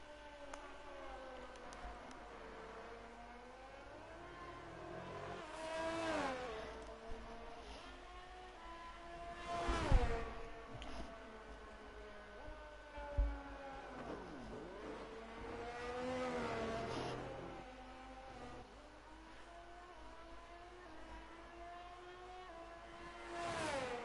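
Several F1 racing cars in a video game race at Imola scream past one after another, engines rising and falling in pitch as they brake and accelerate, loud and continuous with sharp downshift bursts.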